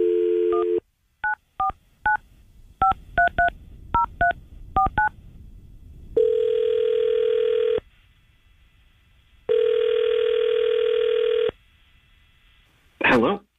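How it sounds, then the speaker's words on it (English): A radio show's phone call: a quick run of touch-tone dialing beeps, then two long, steady ringback tones separated by silence, ending in a brief click as the line connects. "Let's call Kyle right now and see if he'll answer"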